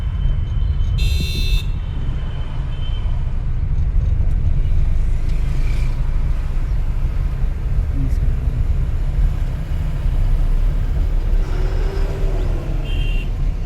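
Car engine running steadily during a driving lesson as the car is shifted into fourth gear, a constant low rumble with road noise and a couple of brief higher tones, no clear talk over it.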